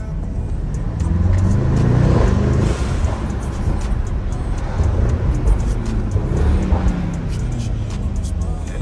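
Mercedes-AMG GT63s driving at night through city streets, its engine swelling into a loud acceleration surge early on, then holding a steady throaty drone with road noise from inside the car.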